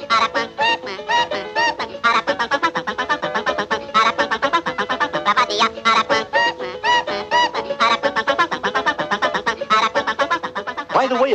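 A cartoon Araquan bird sings a long, peculiar song of rapid chattering and warbling notes, loud and unbroken from start to finish.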